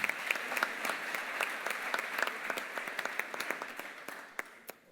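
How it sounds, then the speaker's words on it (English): A conference audience at a private equity event's main stage gives a steady round of applause, dense clapping with sharp individual claps standing out, sustained through the clip before starting to thin at the end. "Can I have a round of applause, please, for Hind?"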